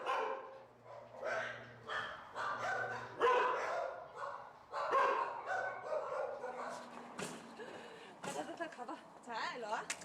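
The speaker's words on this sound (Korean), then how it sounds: "(300마리) 정도의 개와 고양이들이 이곳에 살고 있습니다." Many dogs bark and yip over one another at an animal shelter that houses around three hundred dogs and cats. The barking comes in dense, overlapping bursts at mixed distances.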